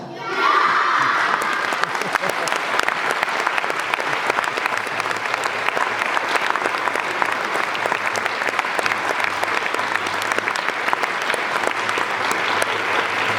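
A concert audience claps steadily and loudly throughout, a dense sustained wash of applause with scattered cheers and shouts.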